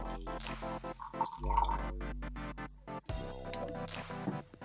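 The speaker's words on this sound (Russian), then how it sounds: "Добавляем в муку 150 мл воды, убедившись, что она комнатной температуры." Room-temperature water poured into wholegrain flour in a glass jar, a short run of drips and splashes with a steadier pouring stretch in the middle, close and fairly quiet, no talking.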